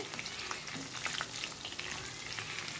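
Chicken fries in a pan with a soft, continuous sizzle and faint crackle, quiet and close, with no voices over it.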